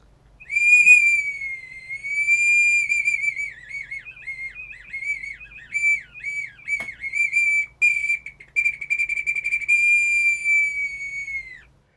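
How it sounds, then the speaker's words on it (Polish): A wooden whistle played up close, long bright tones broken by quick trills and short bursts, shifting pitch slightly, with no talking. "Jest to taki pierwszy, lepszy powiedzmy gwizdek, tutaj w tym wypadku drewniany."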